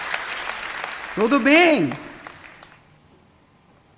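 Audience applause at a sermon, a broad patter of clapping that swells and fades over a few seconds, with a voice speaking briefly over it.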